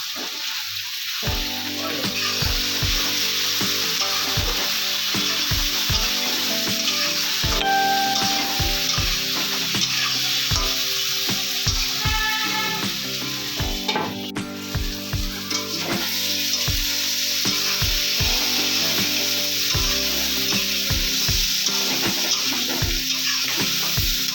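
Potatoes frying in oil in a pan for a Bengali fish curry, a constant bright sizzle broken by repeated rhythmic scrapes and knocks of a spatula stirring, no talk.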